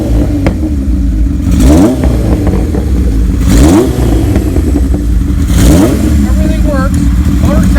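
A 1977 Kawasaki KZ1000A motorcycle engine on its first run after a rebuild, revved loudly three times in a row, each rise and fall sweeping over a steady rumbling idle, close and clear with no talking.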